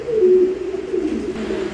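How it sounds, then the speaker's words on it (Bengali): Pigeons, zebra-necked and black beauty birds kept for sale, coo in a steady low rolling murmur that carries close and clear throughout, with no talking over it. "দেখেন জেব্রা গলার কবুতর"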